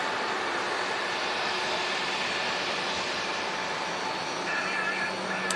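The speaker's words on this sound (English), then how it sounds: "The beautiful Aer Lingus A330 300 taxiing out here." An Aer Lingus Airbus A330-300 taxiing at Manchester Airport makes a steady, distant jet-engine whine and roar, constant and fairly faint with no talk.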